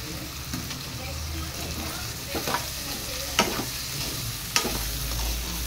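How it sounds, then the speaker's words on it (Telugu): Cooked prawns frying in a pan with freshly pounded spices for prawn curry, a steady close sizzle with occasional stirring scrapes and a couple of sharper knocks, with no talking. "ఇవి కూడా ఇప్పుడు ఇలా బాగా వేయించుకొని ఒక 2 నిమిషాలు ఉంచుదాము"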